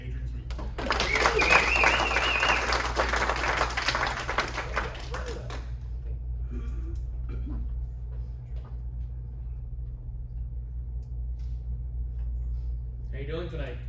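An audience welcoming a speaker with several seconds of loud, dense applause, which then cuts off into a quiet room with faint scattered sounds.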